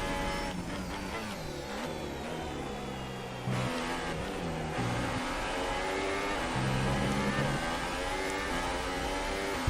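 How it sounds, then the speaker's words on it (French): Formula 1 race cars in the F1 2018 video game scream past at high revs, engines rising and dropping in pitch with gear shifts, loud and continuous with no talking. "C'est depuis tout à l'heure que je suis à l'attaque avec Charles Leclerc mais c'est quasiment impossible de le doubler."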